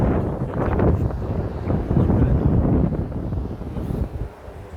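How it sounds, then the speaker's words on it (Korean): Strong typhoon wind in Dangjin buffets the microphone as a loud, roaring, gusting rush, while trees are being blown and broken. The wind stays close and dense throughout with no clear speech. "바람 엄청 불고 있고요"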